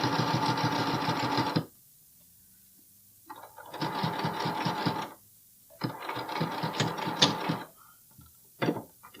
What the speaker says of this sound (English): I'm gonna do a couple stitches forward, a couple stitches back